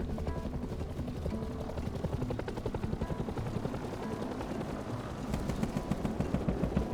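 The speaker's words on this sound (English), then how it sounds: "The patrol helicopter was circling the Oasis and had targeted on to one of my neighbours." A patrol helicopter circles a desert oasis base in the survival game Rust, its steady rotor thump loud and continuous, with bursts of gunfire crackling over it toward the end.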